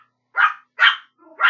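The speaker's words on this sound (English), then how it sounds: "The dog is doing his job by barking at the cat." A dog barks at a cat, three sharp, loud barks close up with short pauses between them and no talk.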